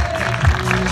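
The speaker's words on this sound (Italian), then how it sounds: "un applauso!" Audience applause at a waltz and mazurka dance event in Maiolo, a brief, fairly loud wash of clapping with a low hum of crowd noise underneath.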